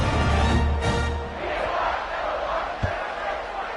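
A college football stadium crowd roars and cheers during a video game, with a loud, dense wall of voices that swells and eases, plus a thump near the end.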